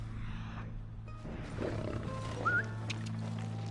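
A lion-like creature roars in Red Dead Redemption 2, a single growling roar rising over a steady low ambient hum, fairly close and moderately loud.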